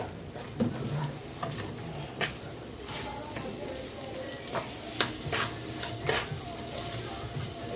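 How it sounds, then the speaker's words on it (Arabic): White bean and meat stew being stirred in a pot with a low, steady sizzle and scattered scraping strokes of a spoon, moderately quiet. "نقلب بقى التقليبه حلوه"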